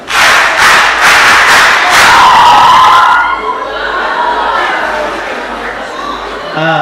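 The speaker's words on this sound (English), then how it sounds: "Let us congratulate them with a hand clap." A school debating-final audience in a hall bursts into loud rhythmic hand claps mixed with cheering and shouting, then the applause fades into a softer crowd murmur.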